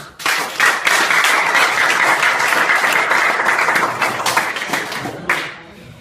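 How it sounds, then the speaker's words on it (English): A crowd at a charity event in a school for the blind in Nigeria claps vigorously, a dense, loud stretch of applause lasting several seconds before tapering off. "Can somebody just clap now?"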